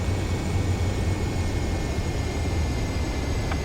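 A jet aircraft on landing approach in the Ace Combat 7 video game, a steady droning engine roar with a low hum underneath, constant and unbroken, with no talk.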